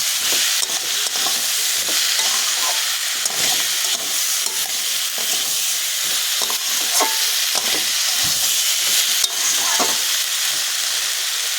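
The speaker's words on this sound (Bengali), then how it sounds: "লঙ্কাটা দিয়ে আবারও আমি ভালো করে নাড়াচাড়া করে নেব।" Chopped green and ripe chillies fry in a pan for a prawn dish while being stirred, giving a steady, close sizzle broken by frequent spatula scrapes and clicks, with no talking.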